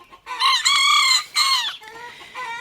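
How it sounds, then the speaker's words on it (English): Small bantam-type roosters crowing in close succession, two loud strained crows followed by a thinner third, creaky and reedy like rusty wind-up toys, heard alone at a riverside stay. "the weird mini roosters, crowing away like rusty wind-up toys"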